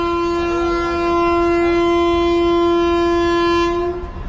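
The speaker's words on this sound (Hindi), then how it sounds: "ट्रेन ने हॉर्न देखो किड्डा लंबा मारिया" A train horn blares in one long, loud, steady blast nearby from the Shaheed Express, with low rumbling rail noise beneath, before it cuts off near the end.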